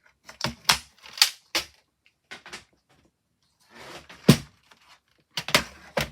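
Cutting tool trimming excess paper on a mini booklet: a series of sharp, separate clicks and snaps in uneven clusters with quiet gaps between, close up and alone.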